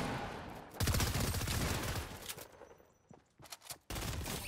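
SMG fire in a video game, fast rattling bursts close and loud, broken by a short lull with a few scattered shots before another sustained burst.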